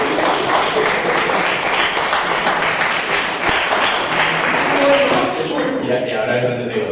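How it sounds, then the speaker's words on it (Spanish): Audience applause rings out steadily for the full stretch, a dense wash of many hands clapping with crowd voices mixed in, continuous and fairly loud. "Venga, por favor, un fuerte aplauso para esto."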